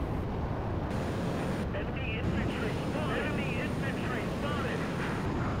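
An attack helicopter in a video game: a steady, muffled roar that holds at an even, fairly quiet level throughout.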